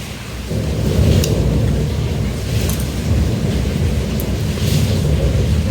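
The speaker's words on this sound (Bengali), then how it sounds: "বৃষ্টি দেখছো, আকাশ ডাকছে" Thunder rumbles low and heavy through steady rain, with a few sharper cracks standing out over the continuous downpour; no voices.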